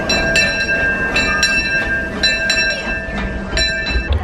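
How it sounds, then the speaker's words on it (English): Disneyland train pulling into a station, with repeated metallic clacks and a steady ringing tone over continuous rolling rail noise, close and fairly loud throughout. "Oh, the train's here."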